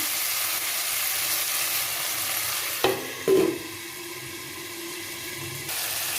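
Brinjal and tomato sautéing in a pan for a brinjal pepper thokku, a steady close sizzle broken by two sharp knocks of a spoon midway, then a quieter, even hiss.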